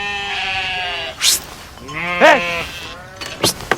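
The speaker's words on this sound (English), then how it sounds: "Are those sheep?" Sheep on a golf course give two long, wavering bleats, fairly close and loud. A person calls out briefly near the end.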